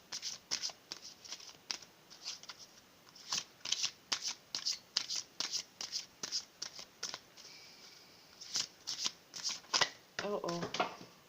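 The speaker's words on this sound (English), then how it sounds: "So I do want to shuffle these angel therapy cards for a last card." A deck of angel therapy cards is shuffled close by: quiet, repeated papery riffles in quick bursts with short gaps, ending in a faster flurry.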